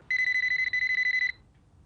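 Telephone ringing indoors, a loud electronic tone pulsing rapidly in a tight trill for just over a second, then cutting off into quiet room tone.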